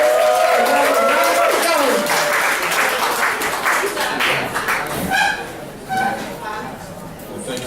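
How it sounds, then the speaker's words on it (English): An audience at a Detroit community music event breaks into a round of applause, with loud, dense clapping mixed with crowd chatter that thins into scattered claps and voices toward the end. "let's give a round of applause"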